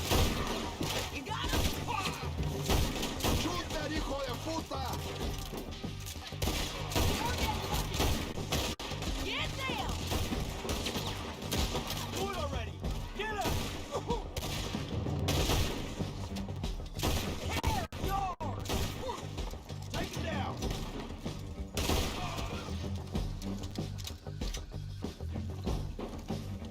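A long, chaotic shootout in the Red Dead video game, with rapid, overlapping gunshots and scattered thuds rattling almost without pause throughout.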